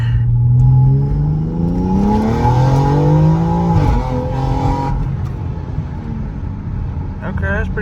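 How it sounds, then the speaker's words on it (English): A tuned 700 rwhp BMW X4M with S58 engine and flex-fuel kit pulls hard in second gear from low revs, its loud engine note climbing steadily in pitch before easing off, heard from inside the car. "second gear at 2K and let her rip"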